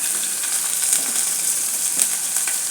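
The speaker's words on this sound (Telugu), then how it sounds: "ఇప్పుడు టమాటాలు వేస్తున్నాను." Tomatoes frying in a pan with turmeric for a mutton aloo kurma, a dense, even sizzle that stays loud and steady throughout with no voices.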